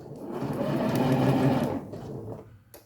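A sewing machine runs for a couple of seconds stitching a curved Drunkard's Path seam, its close whirring rising steadily and then easing off, followed by a quiet pause and a brief click.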